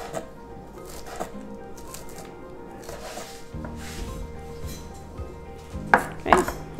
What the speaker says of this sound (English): I like the taste of fresh basil. It smells so nice when you start cutting into it.